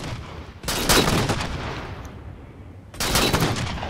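Sniper rifle fire in Halo 4: two loud, close bursts of heavy gunfire with booming tails, the first running over two seconds and the second starting near the end, with no talking.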